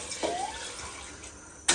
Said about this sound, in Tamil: இப்போ நான் தண்ணி சேர்த்துக்கிறேன்